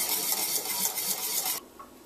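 A whisk scrapes and clinks steadily inside a pot of soursop ice cream custard cooking over a medium flame, a close, continuous metallic stirring that stops abruptly near the end.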